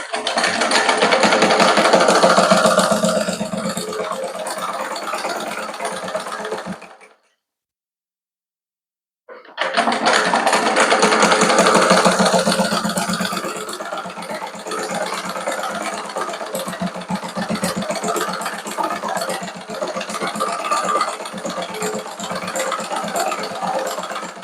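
A sewing machine stitching a seam along a marked line, its steady close-up whirring rattle running continuously, stopping briefly for a couple of seconds of silence, then resuming at a similar pace.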